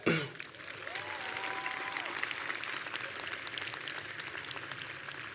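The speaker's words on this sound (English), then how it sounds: "Please give a round of applause for Fabian Macias and Jose Alvarez" Steady applause from a large crowd at a high school graduation ceremony in Westport, Connecticut, continuous clapping heard at moderate distance, with a brief clatter at the start and a faint tonal sound early on.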